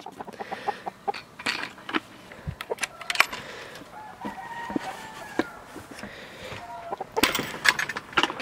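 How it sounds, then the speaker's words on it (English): Icelandic chickens cluck in short scattered bursts on a morning farm, close by, with sharp knocks and clatters mixed between the calls and quieter pauses. "Let's see how Rufus and the two Icelandic chickens are doing."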